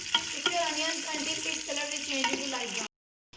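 Onions fry with whole garam masala until light brown, a close, steady sizzle with stirring clatter, then an abrupt cut to silence near the end.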